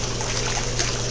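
A Hoover 0519 washing machine on its spin rinse gives a steady wash of splashing, trickling water over a constant low motor hum, close and continuous, without speech.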